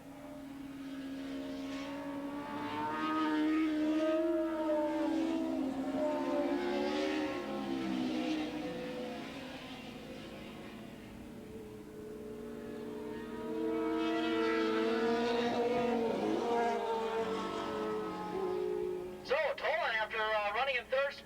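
Formula USA race cars lapping Willow Springs International Raceway in 1986, engine notes rising and falling in pitch as cars pass, heard beneath continuous commentary with a burst of closer engine sound near the end.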